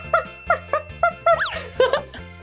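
A little puppy gives a run of short, high yips and whimpering barks, about seven of them in an uneven rhythm, close by and clear, with no talking over them.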